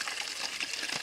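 Running water gushing steadily, as if filling a container, a short close hiss of flowing liquid with no talk over it.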